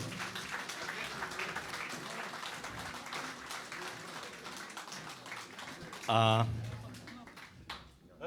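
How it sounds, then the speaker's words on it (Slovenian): Applause at a Mother's Day event, a continuous wash of crowd clapping at moderate distance, with a loud close thump partway through and voices rising near the end. "Bravo, en velik aplavz za Maurico."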